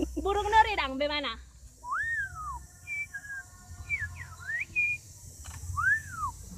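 Man on a stage show imitating the whistled calls of a lory bird, a series of rising and falling whistles in short phrases after a brief burst of voice, with crowd murmur beneath.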